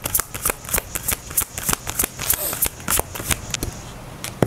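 Tarot cards shuffled by hand in a quick, steady run of crisp riffling slaps, close and loud with no one talking over them.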